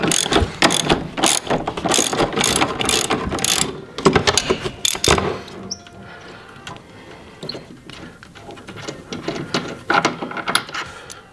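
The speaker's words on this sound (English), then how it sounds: "we can go ahead and use our 3/4 driver with extension and 15mm socket" Ratchet driver with extension and 15mm socket removing bolts on a 2017 Polaris AXYS during a belt drive install, giving rapid close clicking pawl bursts, loud and dense for five seconds, then quieter intermittent ratcheting.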